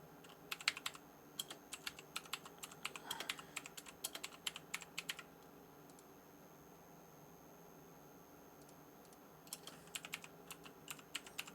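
Quiet typing on a computer keyboard, with rapid bursts of soft key clicks, a long pause, then a second burst at the end, faint and alone.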